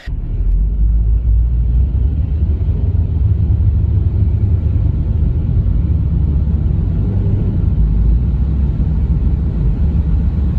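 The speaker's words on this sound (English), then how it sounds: "Notice the engine RPM fluctuating up and down as the car tries to lock and unlock the torque converter repeatedly." Steady low engine rumble from a car with a slipping automatic transmission, its RPM wavering up and down as the torque converter repeatedly locks and unlocks; a continuous, fairly loud drone with no talking.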